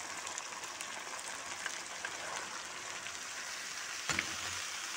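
Golden onions, chopped tomatoes and cut fresh beans sizzle and fry in a pan, a steady crackling hiss at low level throughout, with one brief louder clink near the end.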